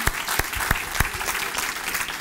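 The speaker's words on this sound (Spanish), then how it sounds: "Ahora sí, dele ese fuerte aplauso" Strong applause from a church congregation for the King of Kings, dense clapping with a few sharp, prominent individual claps standing out in a quick irregular rhythm, loud and unbroken.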